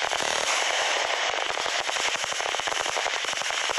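A Tunguska anti-aircraft gun-missile system fires rapid bursts of sharp cracking shots during a Russian military exercise, a dense, steady rattle of closely spaced reports sounding loud and continuous throughout.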